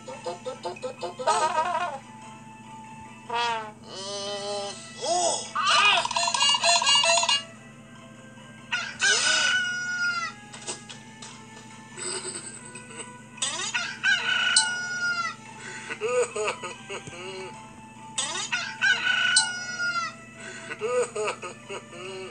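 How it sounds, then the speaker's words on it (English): Several loud rooster crows ring out one after another, separated by short pauses and mixed with clucking and other farmyard sounds. "When he heard the rooster crow"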